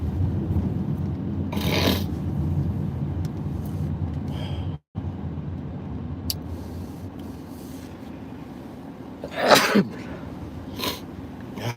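A person with allergies sneezes inside a car, a couple of sharp bursts near the start and one louder sneeze later, over a steady low cabin hum.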